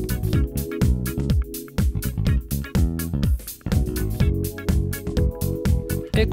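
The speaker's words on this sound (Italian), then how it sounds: "Ecco un suono di basso trasformato grazie al Dynamics di Sonnox." Bass guitar run through a Sonnox Oxford Dynamics compressor plugin, heard as a busy, punchy bass line inside a full band mix with drums, notes thumping steadily and evenly for several seconds.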